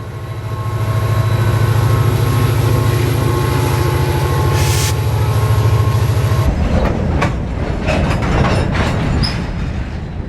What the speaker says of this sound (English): Now this is what you call a train.